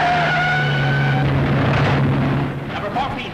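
Race cars speeding around a track in a 1940 film, loud engine whine and roar with a sustained droning tone, fading somewhat toward the end while an announcer's voice carries over it.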